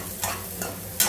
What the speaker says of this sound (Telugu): ఈ ఆనియన్స్ అన్నీ ఫ్రై చేసుకోవాలి అన్నమాట